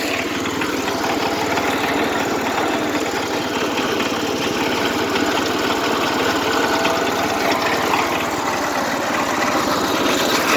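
A Sears tractor engine runs continuously at a steady, rapid idle, its dense mechanical chatter holding a constant level throughout with no talk over it.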